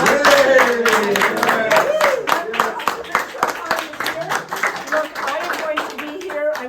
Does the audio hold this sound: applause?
yes